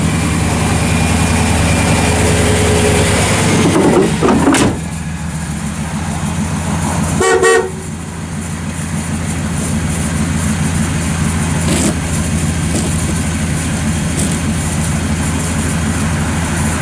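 A 1996 Chevrolet Silverado short box pickup's engine runs at a steady idle, loud and close, with a brief break and a sharp catch around the middle before it settles back into an even, continuous rumble.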